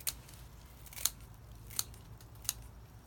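Scissors snip through lavender stems during a harvest, giving four crisp, close cuts spaced about a second apart against a quiet outdoor background.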